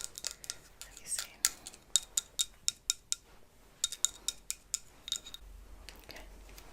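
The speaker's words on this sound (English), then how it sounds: "So we have our scissors to cut away." Close, crisp scissors snips repeat in a quick, fairly regular rhythm, about a dozen and a half sharp metallic cuts in a quiet room.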